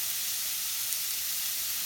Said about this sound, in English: we're just gonna throw all our meat on the skillet and cook it